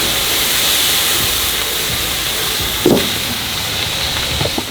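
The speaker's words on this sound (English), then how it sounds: "Now we're going to steam it with the bun lid on top as well" A fried chicken burger steams under its bun lid on a hot griddle, giving a steady, even hiss throughout with a brief clatter partway through.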